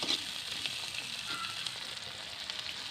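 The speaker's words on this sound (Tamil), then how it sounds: "இப்போ ஒரு தக்காளி கட் பண்ணியிருந்தேன் அதை போட்டுக்கலாம் தக்காளி வதங்கி வந்துருச்சு" Chopped tomato frying in a pan for a village-style pork fry, giving a steady, close sizzle with a few soft stirring scrapes and no talking.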